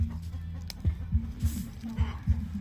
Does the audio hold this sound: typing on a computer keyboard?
no